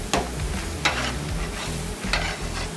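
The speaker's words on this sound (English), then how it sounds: "Put them on the grill. We smash them out." Beef burger patties sizzle and fry on a hot restaurant grill, a steady close crackle broken by a few sharp scraping or smashing bursts, with no talking.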